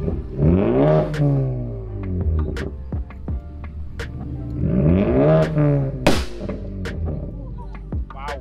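Cars rev their engines as they leave an import car show in Helen, Georgia, with two loud rising-and-falling revs passing close by, separated by brief sharp pops and crackles.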